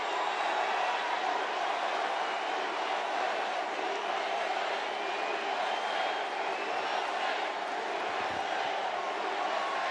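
A large political rally crowd roars and cheers steadily in a big arena with upper rafters, a dense, continuous wash of voices that stays loud throughout with no single speaker standing out.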